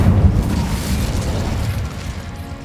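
In the Hogwarts Legacy video game, the Incendio fire spell fires with a loud whooshing boom. Its heavy rumble runs for a couple of seconds and slowly fades.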